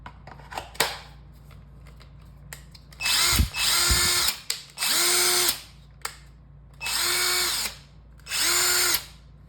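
A compact Hercules 1/4 inch hex drill whirs in four short bursts of about a second each, close and loud, with clicks and handling noises between the runs.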